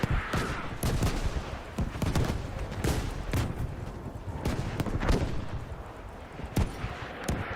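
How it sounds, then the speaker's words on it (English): Artillery and gunfire from the video game Battlefield 5 crack in a dense, irregular barrage of sharp shots and booms. The firing goes on for the whole stretch and is loud and close. "Is that our artillery?"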